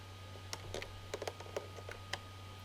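Computer keyboard keys pressed for a Control, Alt and S save shortcut in QuickBooks Online accounting software, a scattered run of light plastic clicks over a low steady hum, close and clear with no talk.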